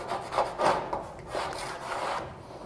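A scraper drawn along the painted edge of a candy pearl drag racing boat hull, giving several short rasping strokes in an uneven rhythm, close and fairly quiet with no talking.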